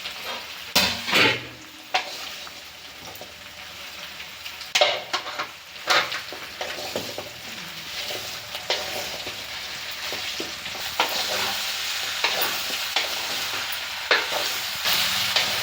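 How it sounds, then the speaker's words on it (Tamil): Citron pickle being stirred in a hot pan, a continuous sizzle under repeated scraping and knocks of a spoon against the metal, close and moderately loud, no talking. "இப்போ எடுத்து போட்டு நல்லா கலக்கி விடலாம்"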